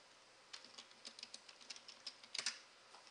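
A password is tapped out on a computer keyboard during a Debian Linux install: a quiet run of about a dozen uneven key clicks, close but faint, with no talking.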